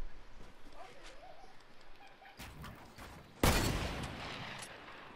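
Fortnite video game gunfire: a sharp shot near the middle, then a loud burst late on, against a low background with faint talk.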